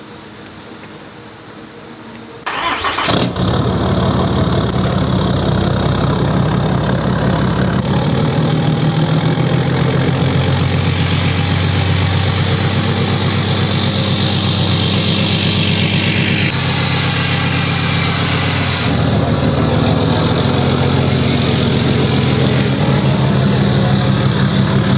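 A 2021 Ram 2500 Cummins diesel pickup cranks and fires up in a garage, then settles into a steady, loud, close idle with a deep rumble and slight shifts in tone, no talking.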